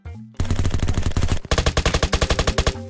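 Rapid automatic gunfire in the Roblox game Apocalypse Rising 2, loud and close: one long continuous burst, a brief gap, then a string of distinct rhythmic shots with no talking.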